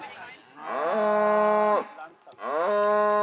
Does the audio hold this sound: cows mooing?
yes